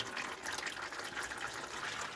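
Automatic transmission fluid from a Mopar 727 valve body drains into a pan in a steady liquid trickle and splash, continuous and close, with no talk over it.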